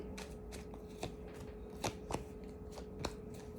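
Hand-shuffled tarot cards produce a series of quick riffles and soft slaps in an uneven rhythm, close by and moderately quiet, with no talking over them.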